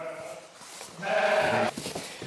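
An old ewe bleats once on an Irish farm, a loud wavering cry that lasts about half a second and follows softer rustling and shuffling.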